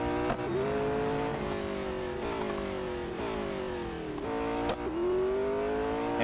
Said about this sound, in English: Porsche 909 BERGSPYDER. It sounds very close to an old-fashioned Formula 1 car.